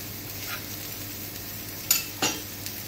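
A paratha fries in a pan with a teaspoon of cumin added, making a soft continuous sizzle close by. A couple of brief scraping clatters are heard as it is turned.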